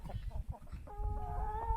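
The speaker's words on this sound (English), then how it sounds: "it's time to lock up the chickens" Hens cluck and murmur close by at a homestead coop around lock-up time, with soft, irregular calls; a thin, steady whistling tone joins partway through.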